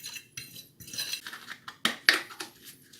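Potato wedges are tossed with black pepper, salt and paprika in a bowl, giving a quick run of light clinks and knocks, with a couple of sharper clanks near the end.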